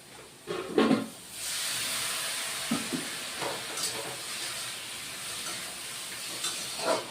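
Water poured into chalta chutney frying with grated coconut, giving a loud steady steam hiss close by with a few brief clinks and bumps.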